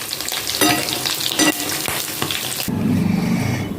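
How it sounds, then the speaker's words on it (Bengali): Paneer cheese pakoda balls deep frying in hot oil and being turned, a loud close crackling sizzle broken by several scraping stirs, settling into a steadier bubbling hiss toward the end. "এইভাবে ওলট পালট করে ভেজে নিতে হবে এটা।"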